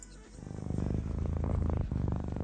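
A cat purrs close up, with a soft, steady rhythmic rumble pulsing quickly and evenly throughout.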